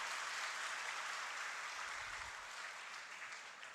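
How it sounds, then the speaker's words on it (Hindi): Audience applause for the Chandrayaan mission at an Independence Day address, a steady wash of many hands clapping, fairly faint and distant, gradually thinning toward the end. "चंद्रयान के लिए एक बार जोरदार ताली बजा दीजिए।"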